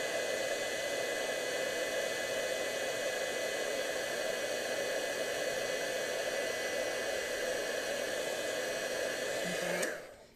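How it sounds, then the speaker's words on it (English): A heat embossing tool blows a loud, steady whooshing hum while heating embossing powder until it rises, close and unbroken, then switches off abruptly at the end. "take your heat tool, and you want to take it so that it's heated really hot"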